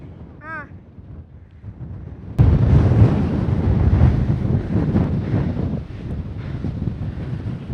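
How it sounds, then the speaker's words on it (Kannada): Strong wind rushing on the summit of Ambajidurga hill by a temple, a sudden loud buffeting roar against the microphone after a quieter start with a brief chirp, continuing steadily to the end. "ಗಾಳಿ ನುಗ್ತಾ ಇರೋದು"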